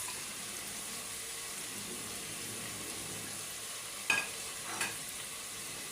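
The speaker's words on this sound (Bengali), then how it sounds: "দিয়ে দিলাম পেঁয়াজ" Onions frying in a pan while a Chinese-style vegetable dish is cooked, a steady soft hiss running throughout with two brief louder stirring or scraping bursts near the end.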